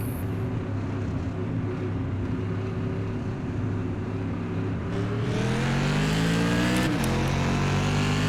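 Simulated NASCAR Whelen Tour Modified race cars at Concord Speedway in iRacing roar off a green-flag start, a steady loud engine drone whose pitch climbs as they accelerate, several cars layered together, no talking.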